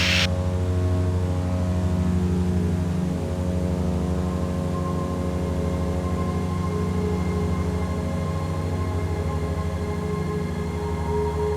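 Steady, loud drone of a small airplane's engine running in flight, with a constant low hum and harmonic tones that hold unbroken throughout, no voices present.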